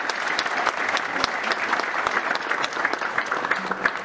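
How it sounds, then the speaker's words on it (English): Applause for the parents fills a diaconate ordination ceremony at a major seminary in Lusaka, Zambia, a dense, steady crowd clapping that carries on throughout. "A hand of applause for the parents,"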